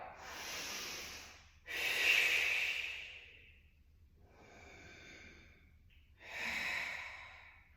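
Slow, deliberate breathing during a flexibility warmup: long audible inhales and exhales in a steady rhythm, close and alone with no talking.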